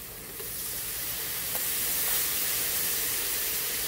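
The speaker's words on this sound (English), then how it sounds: "We'll do a little bit of steam bath on this stuff as well." Water squirted under a cover on a Blackstone griddle, steaming a steak sandwich filling, gives a steady broadband sizzling hiss that holds level and close throughout with no talking.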